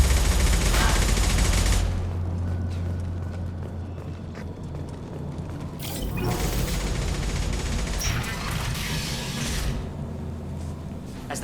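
Gunfire in the Mass Effect 2 video game during the Omega Archangel mission, with mechs and a gunship: dense, sustained shooting over a low rumble, with bursts swelling around the middle and near the end.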